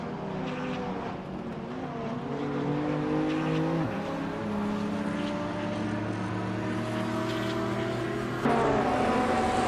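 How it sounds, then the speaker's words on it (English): A Ford RS200 rally car, a turbocharged rally legend, races in a video game. Its engine drones steadily, with rising and falling revs and gear shifts, and a sharp change in tone near the end. No voices are heard. "Bot Smurf 20 is driving a Ford Rs 200, a rally legend known for its agility and turbocharged power"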